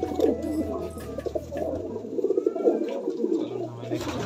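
High-flying pigeons coo close by in low, repeated throaty calls that overlap and roll on through the whole stretch.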